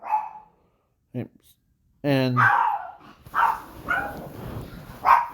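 Small dogs barking in short yapping bursts, with someone talking before and over the barks indoors.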